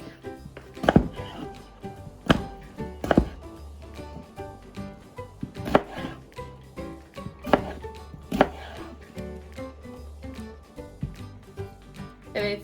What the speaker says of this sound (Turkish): iri iri yemeklik doğruyoruz